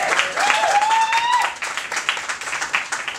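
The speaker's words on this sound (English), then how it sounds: "So give her a round of applause." Theatre audience applause in a tent at a fringe festival, a dense wash of clapping that runs the full length, with a brief whistle-like tone early on and some voices mixed in.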